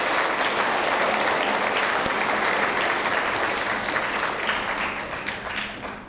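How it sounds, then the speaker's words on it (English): Sustained applause from an audience at a sixth grade awards ceremony, a dense wash of many hands clapping steadily, fading slightly toward the end. "one more round of applause"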